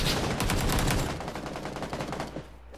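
Rapid automatic gunfire in the video game PUBG, a dense burst of loud close shots rattling for about two seconds before tapering off.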